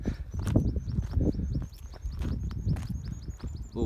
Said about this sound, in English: Little bird making noises.